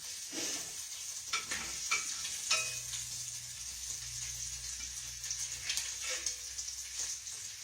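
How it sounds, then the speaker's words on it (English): Bacon frying in a pan, a constant crackling sizzle with scattered pops and a few utensil scrapes as it is turned, close and moderately loud with no talk. "Let me turn this over, y'all. Give me a minute. I don't want my bacon to burn."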